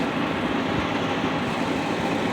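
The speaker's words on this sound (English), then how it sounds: "Sorry for the noise in the background. We got that shop fan going." A shop fan runs loudly in a garage where Mopar control arm suspension work is underway, a dense, steady rushing roar with low rumble and no pauses.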